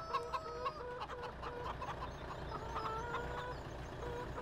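Several chickens in Farming Simulator 2017 cluck and squawk in short repeated bursts, fairly close, over a low steady background hum.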